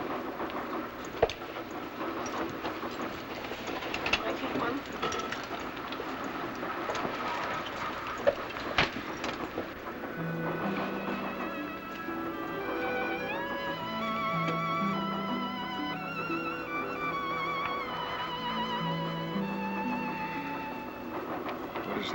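A train running on rails in a 1950 western, a steady rumbling clatter with occasional sharp knocks, joined partway through by orchestral music playing over the rolling noise.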